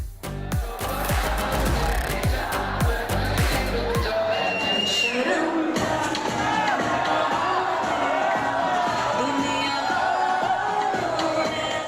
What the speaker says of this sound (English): These scenes of audience going crazy in theatres have flooded social media.